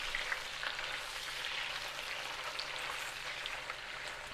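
Onions frying in a pan, a steady close sizzle and crackle with faint scraping of stirring mixed in, with no voices.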